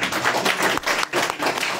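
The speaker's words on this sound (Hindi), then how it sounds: "एक बार हमारा मन है कि भाई आनंद के लिए एक बार ताली और हो जाए।" Applause for a poet at a poetry festival in Raebareli, Uttar Pradesh: a steady wash of many hands clapping together in a hall, dense and continuous with slight surges throughout.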